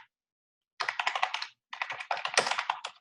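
Typing on a computer keyboard: two quick bursts of close, clicky keystrokes separated by short pauses, alone without talk.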